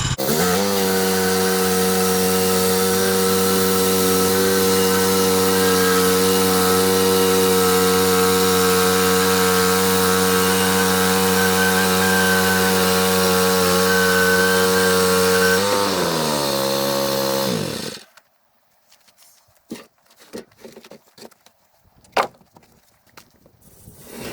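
A power saw cuts wood while building a base for a screen, a loud, steady, close motor whine with sustained cutting for about sixteen seconds, pitch dropping as it winds down, then quiet with scattered knocks and handling sounds.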